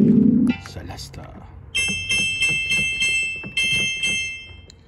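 Bell-like celesta preset on a Roland JX-3P synthesizer, with bright chiming tones struck in quick repeated notes, two short runs of rhythmic, decaying plinks preceded by a brief low thump.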